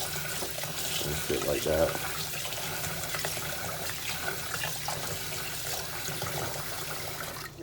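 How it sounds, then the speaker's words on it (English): Rice being washed under a running kitchen tap during meal prep, a steady hiss of flowing water lasting throughout, with a person talking over it. "wash the rice"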